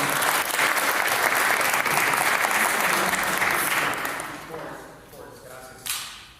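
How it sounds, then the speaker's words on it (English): An audience at a youth leadership conference applauds a congressman, a loud sustained burst of clapping that fades out over the last couple of seconds as a few scattered claps linger. "So a round of applause for Congressman Juan Cisco Mann."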